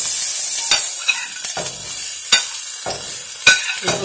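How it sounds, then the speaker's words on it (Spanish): Onion sizzling in a hot pan, a steady bright hiss broken by several scraping stirs of a spoon, close and loud with no talking. "Este ya está sofrito, ya despidió su juguito."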